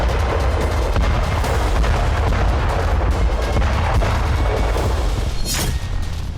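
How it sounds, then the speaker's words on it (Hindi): Massive FAB-3000 bombs, 3,000-kilogram aerial bombs dropped in a Russian bombardment of the Ukrainian front line, produce a continuous, loud, heavy rumble of booming blasts with no clear gaps. "यहां फैब 3000 बम से हमले किए जा रहे हैं।"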